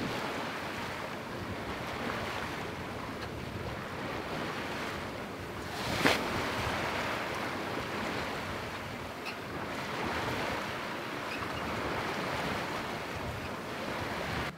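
A sailboat under way at sea, steady broadband rush of waves washing along the hull mixed with wind, continuous and fairly loud with one brief knock midway.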